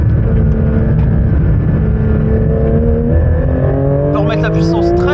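A Porsche 911 GT3 engine roars close by on a track, its pitch dropping steadily as the car brakes hard, then a brief squeal and high whine near the end.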